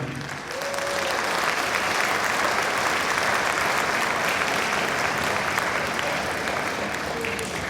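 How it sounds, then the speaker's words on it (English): Loud, sustained audience applause fills a junior high all-region band concert, rising quickly and holding dense and even throughout. "So please applaud yourselves, children of heaven."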